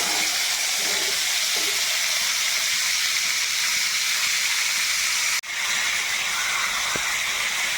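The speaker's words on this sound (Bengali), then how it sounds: "তো এবার একটু ভেজে নেব। কড়াতে তেল দিয়ে দিলাম।" Boiled jackfruit seeds and beans frying in oil in a wok, a loud, steady hiss close by with a brief interruption and a small clink near the end.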